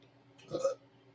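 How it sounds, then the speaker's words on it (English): A single short burp from a person on a live stream, a brief guttural belch under half a second long, close and moderately loud against a quiet room. "Oh, sorry for that burp."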